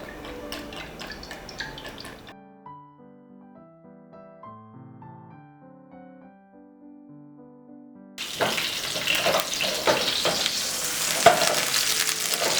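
Eggplant slices frying for imam bayildi in about four tablespoons of olive oil over medium heat: loud, dense sizzling and crackling that bursts in after a quiet stretch of soft music, no talking.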